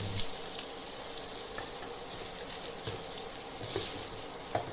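Coriander powder and garam masala sautéing in a pan for sprouted matki khichdi give a steady, soft frying sizzle close by, with a few faint stirring scrapes and taps.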